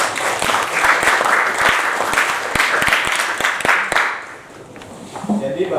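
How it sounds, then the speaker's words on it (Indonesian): Classroom audience applauding after a group presentation, dense clapping for about four seconds that fades out, close and loud, followed by quiet room sound and a little talk. "Oke, berikan aplaus dulu."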